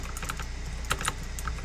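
Fast, irregular clicky keystrokes up close on a Tecware Phantom 87 mechanical keyboard with heavy 60-gram blue switches, each press a sharp tick with a few louder strikes, no voices.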